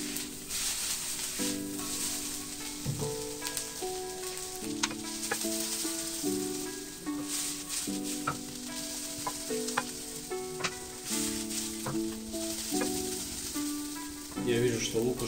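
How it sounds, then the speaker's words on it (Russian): Onion frying in a pan on the way to golden brown, a continuous sizzle with scattered clicks and stirring scrapes, set under steady stepping background music. "Лук нужно дожарить до золотистого цвета."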